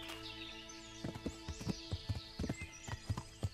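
Horse hoofbeats in the medieval video game Kingdom Come: Deliverance as the rider travels down a path, a rhythmic clip-clop of steady irregular strikes starting after a second, over a soft ambient bed with faint birdsong.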